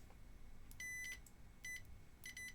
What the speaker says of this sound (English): Now it's on a setting that it will beep when it detects that something is electrically connected.